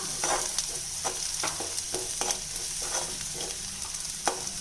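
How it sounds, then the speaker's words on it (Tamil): Onions fried with chili powder and salt being stirred in a pan, a continuous sizzle with repeated soft scraping strokes in an even rhythm, close and moderately loud, no talking. "இப்போ இதை நல்லா கலந்து விட்டுக்கலாம்"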